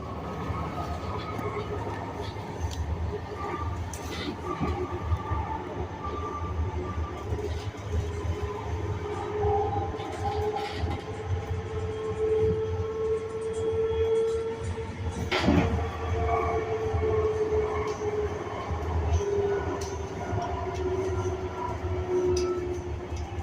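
Steady rumbling inside a moving train, with constant wheel and track noise, occasional squeals and rattles, and one sharp clank midway.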